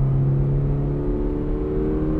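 Toyota GR86 sports car engine under acceleration, a steady loud drone with layered harmonic tones heard from inside the car.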